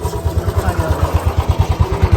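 A motorbike rides through narrow unpaved village lanes, its engine close and loud with a fast, regular throbbing pulse and some rattling over the rough ground.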